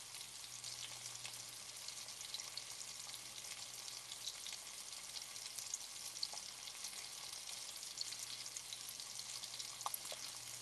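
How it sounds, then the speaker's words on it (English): Steady close crackling sizzle of chicken frying in a hot pan, continuous and even, with a low hum underneath and occasional pops. "That's why I keep a sizzle mic over here where y'all can hear that."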